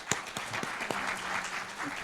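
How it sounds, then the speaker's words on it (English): Scattered, fairly quiet clapping rises from the audience at a student debate, a few sharp individual claps at first and then a soft, uneven round of applause. "let's go ahead and get one opening round of applause for all 4 of our debaters here tonight"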